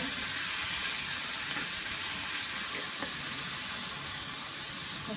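Onion or aromatics sautéing in hot oil over medium heat for mutton kola urundai, a steady broadband sizzle and hiss throughout with occasional faint stirring clicks, close and alone without talk.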